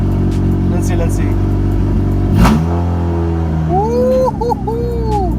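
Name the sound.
Honda Civic EK engine revving while cold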